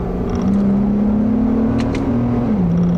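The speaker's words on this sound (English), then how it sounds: "A 5-speed auto with its sport mode does have pretty good way of blipping the throttle." A 2008 Acura TL with a 5-speed automatic in sport mode, heard from the cabin while driving: a steady engine drone rises slightly in pitch, holds, then drops as the transmission blips the throttle on a shift.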